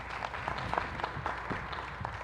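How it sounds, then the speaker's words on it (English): A modest audience at a Baltimore County event applauds the panelists, with scattered clapping and crowd murmur heard from a distance at a fairly quiet level. "give them a round of applause"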